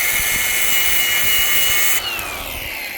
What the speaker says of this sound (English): Now we can very easily just get a grinder with a cutoff blade on it.